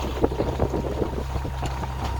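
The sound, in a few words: wind while sailing a boat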